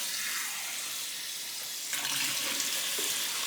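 Tap water runs steadily into a sink to rinse basmati rice, a continuous hiss that grows louder and more splashy partway through as the flow hits the grains.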